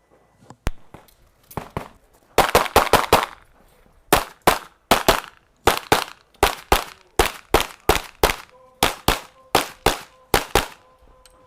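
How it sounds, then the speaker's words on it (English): Handgun shots ring out at the European Handgun Championships, a competition shooter firing a long series of sharp, loud reports in quick clusters and steady paced strings, each crack followed by a short ringing tail. "here is Robin Sabo shooting"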